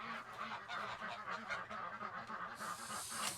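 Goslings on a homestead honk repeatedly in a steady overlapping chorus, close and fairly loud, with no talking.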